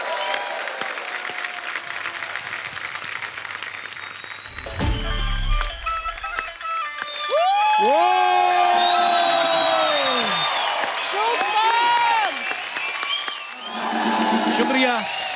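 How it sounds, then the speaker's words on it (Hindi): A studio audience on a Hindi TV show applauds loudly for a singer, with bright tonal sweeps and musical flourishes over the clapping and a host's voice partly audible. "जोरदार तालियां हो जाए उनके लिए।"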